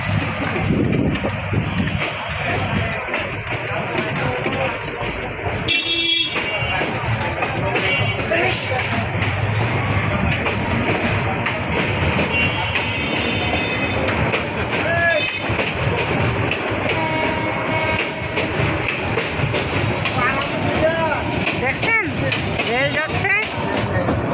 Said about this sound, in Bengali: আমাদের এখানে বিশাল রেল যাচ্ছে